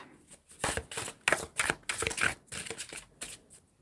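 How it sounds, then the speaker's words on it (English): A deck of cards shuffled up close, a quick series of crisp riffling bursts and taps in an uneven rhythm, with no talking. "I'm going to shuffle"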